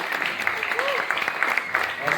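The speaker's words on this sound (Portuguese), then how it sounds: "Aplauda o Senhor pela sua vida." Audience at a church youth camp clapping together in a dense, steady wash of applause, with voices and cheers mixed in throughout.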